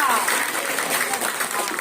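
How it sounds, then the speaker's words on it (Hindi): A church congregation at a healing testimony service in Talasili, Ordih Parish, claps loudly and steadily for God, a dense, continuous patter of many hands throughout, with voices mixed in. "जोर से ताली बजाइए ईश्वर के लिए।"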